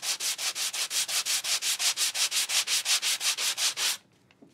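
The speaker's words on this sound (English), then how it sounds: "So just a little light sanding on this." A sanding block rubs lightly back and forth over an embossed craft piece, about twenty even, rhythmic scratchy strokes close to the microphone, then it stops abruptly.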